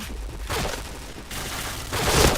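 Gunfire in a shooter video game: loud, dense bursts of rapid shots rolling together, with a short lull before another heavy volley and no talking.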